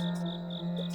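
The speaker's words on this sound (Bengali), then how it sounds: "গভীর জঙ্গলের ঝিঝি পোকার ডাক," Steady cricket chirring in a deep hill forest at Biharinath, with a continuous high trill and a constant low drone, no voices, an even nighttime-forest texture throughout.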